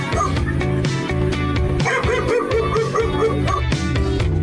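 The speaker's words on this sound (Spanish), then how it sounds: "¿Y cómo hace el perro?" A dog barks in a children's lesson on farm animal sounds, giving a few short barks over upbeat background music.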